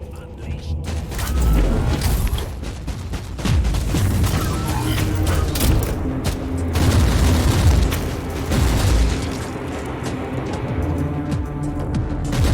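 In Warhammer 40K Inquisitor Martyr, a grenade blast and heavy booming combat effects rumble loudly and continuously, mixed with mechanical clanks and bursts over a dense battle soundscape.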